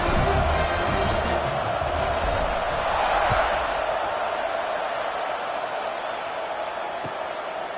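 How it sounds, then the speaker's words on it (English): Football stadium crowd buzzing steadily after a 73-yard touchdown pass, a loud continuous roar of many voices with scattered shouts and claps, filling the whole stretch without pause. "this crowd is buzzing after that last score"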